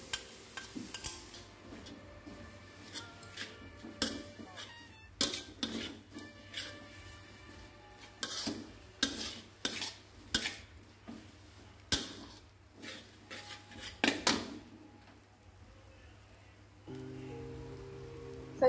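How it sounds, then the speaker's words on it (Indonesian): Shrimp filling stir-fried in a pan for a Pontianak savory talam, with irregular scraping and clanking strokes of a spatula against the metal over a low sizzle, fairly close, ending in a steady hiss. "Nah, ini kita tumis kurang lebih 2 menit aja."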